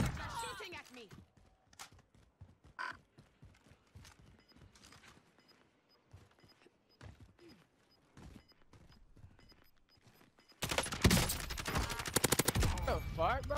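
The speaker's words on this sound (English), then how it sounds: "They're shooting at me." Gunfire in the video game Call of Duty: Warzone, with scattered sharp shots and bursts amid movement noise, then a loud sustained volley of rapid fire near the end while a player talks.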